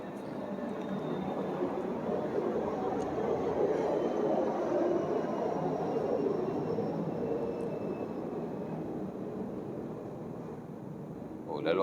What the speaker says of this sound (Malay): Lalu orang kapal terbang sini ya.